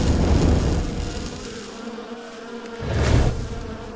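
Bees swarm around beehives in the video game REKA, making a continuous, fairly loud buzzing drone that swells near the start and again near the end.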